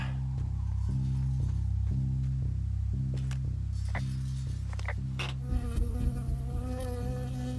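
In the video game Firewatch, a bee buzzes in a steady, pulsing drone that repeats in even beats, then swells into a rougher, louder buzz near the end.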